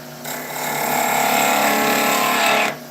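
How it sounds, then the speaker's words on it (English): An old bench grinder whirs up and runs with a loud, steady mechanical whine for a couple of seconds, then cuts off, with no talk over it. "I have a very old bench grinder that works"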